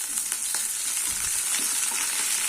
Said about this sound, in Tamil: இப்போ கடுகு பொரிய ஆரம்பிக்குது.